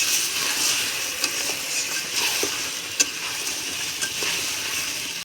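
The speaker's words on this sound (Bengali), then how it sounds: "বন্ধুরা এখন আলু ভাজাটা আর ক্যাপসিকাম আমি দিয়ে দেব" Meat with fried potato and capsicum sizzles steadily in a pan for a thin Bengali curry, a dense bright hiss with occasional stirring clicks and taps throughout.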